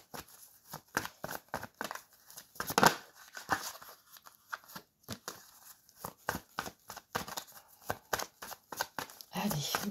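Tarot cards drawn and handled one by one, giving a steady run of soft, close snaps, flicks and shuffling rustles, with someone talking between them.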